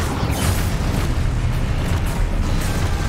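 Confringo blasting-curse explosions in the Hogwarts Legacy video game make a dense, loud rumbling boom that roars continuously with crackling bursts layered on top.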